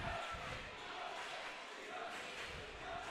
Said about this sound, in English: Crowd coming to their feet,